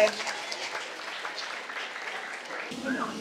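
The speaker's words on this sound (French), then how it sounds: "Nous allons encore les applaudir" A crowd at a government handover ceremony claps in a dense, steady patter of applause for about three seconds, with a voice briefly rising over it near the end.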